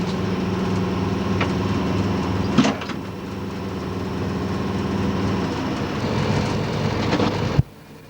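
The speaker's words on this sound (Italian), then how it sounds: "Il treno tallona il deviatoio d'uscita" An Austrian regional train on the Gailtal line rolls through the exit switch at Kirchbach station, a steady close rumble with clunks at about three seconds and a sharp knock near the end before it drops away.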